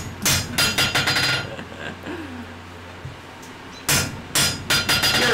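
Hammer blows ring out on hot steel over an anvil while forging a pair of tongs, coming in two rapid bursts of sharp, metallic strikes separated by a quieter pause with faint background hum.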